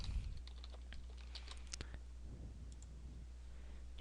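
Computer keyboard typing during a Drupal 7 geolocation setup, with short bursts of soft, quiet key clicks over a steady low hum and no talking.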